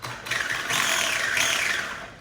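Brushed 1/10 scale Caster S10B RC buggy driving fast in reverse, a steady high-pitched electric motor whine with gear noise that rises and swells briefly, close and alone.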